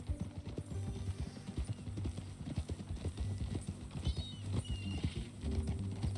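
Horse hooves clip-clop steadily and up close in Red Dead Redemption 2, a ranch-owner's mean-looking new horse walking at an even rhythm, with an occasional soft snort or whinny under the steps.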